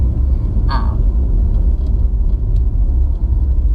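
A Toyota Prius engine runs steadily at idle, a continuous low rumble that stays loud and even throughout, with a brief higher mechanical whine near the start.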